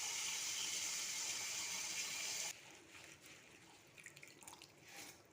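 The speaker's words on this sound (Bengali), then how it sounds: "জল দিয়ে আমি ভালো করে ধুয়ে দেবো শাকটাকে" Tap water runs hard onto freshly cut shushni greens for washing, a bright steady gush that stops midway, followed by quieter drips and sloshing handling.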